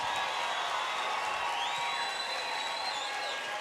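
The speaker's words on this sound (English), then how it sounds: "let's have a round of applause for these two amazing warriors" Crowd applause and cheering for two fighters at a cage fighting event, a continuous broad roar of clapping with whistles and whoops rising above it.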